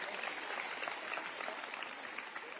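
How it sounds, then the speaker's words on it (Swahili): Steady applause from a crowd at a girls' high school event, a dense wash of clapping that continues throughout at moderate distance. "Tuwapigie makofi."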